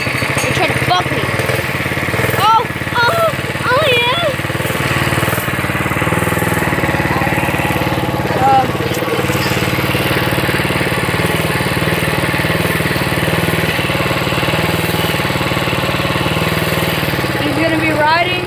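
A minibike's small pull-start engine runs steadily with a buzzing, mid-pitched drone, idling loudly and close by while people talk over it.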